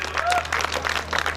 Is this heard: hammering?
no